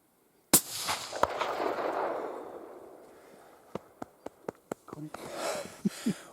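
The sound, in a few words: rifle shot at a deer while hunting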